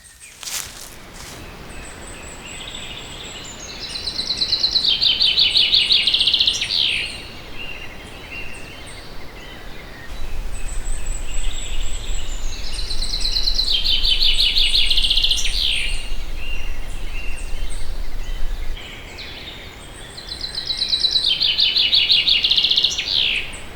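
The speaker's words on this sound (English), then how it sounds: "so you can record quieter ambiences, such as recording birds in the woods." Birds in the woods, captured on Zoom recorders, repeat a bright trilling song phrase about three times, clear and fairly close over a quiet, hissy forest ambience.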